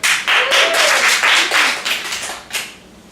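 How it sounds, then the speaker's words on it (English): An audience applauds a storytelling improv game, a dense wash of clapping that is loud and close at first, then thins and fades out over about three seconds. "A round of applause for the game of story."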